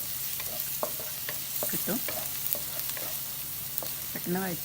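Chopped onion sizzling and being stirred in a hot pan while making avil (flattened rice) cutlets, a steady close frying hiss with scraping stir strokes and no talk.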